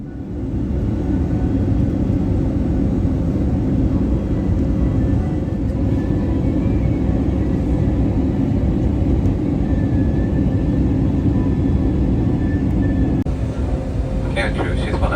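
Royal Brunei Airlines airliner cabin during landing: a loud, steady engine and air roar fills the cabin throughout, with a faint shift near the end.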